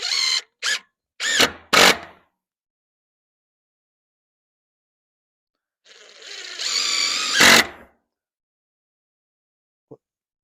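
A power drill drives 2-inch decking screws into trailer side boards in short whirring bursts: three quick pulses, a longer spin, a pause, then a sustained run that rises in pitch before stopping, with a faint tap at the end.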